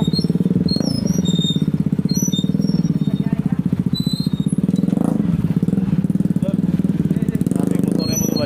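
A motorcycle engine runs loud and close, holding a steady throbbing idle throughout, with chirping birds high in the background.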